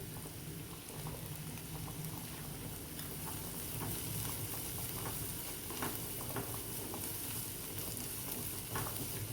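Grated beetroot being stir-fried in a pan for Schezwan fried rice, a steady close sizzle with soft scraping stirs and spattering crackles running throughout, no voices.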